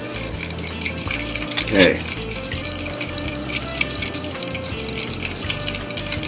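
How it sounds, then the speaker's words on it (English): A knife stirs butter into a mixture for Karjalanpiirakka, giving soft scraping and clinking against the bowl over a steady background hum, with one brief spoken word. "Let's use our knife and stir all that in there"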